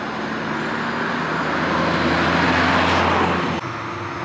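A car passes on a windy road, a steady roadway rumble that swells toward the middle and then drops off abruptly, heard alone.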